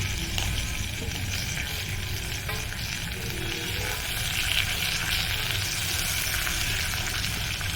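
Steady crackling sizzle of mustard seeds, cumin, curry leaves, garlic and chilli frying in hot oil for tempering, continuous and close, with faint scraping as the pan is stirred.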